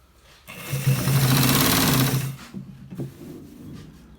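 A sewing machine runs a burst of stitching along a shirt collar, loud and close for about a second and a half, then stops, followed by a few small clicks and handling noises.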